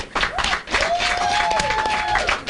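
Studio audience applause during a variety music show, a burst of clapping and crowd noise that rises quickly and holds steady for a couple of seconds.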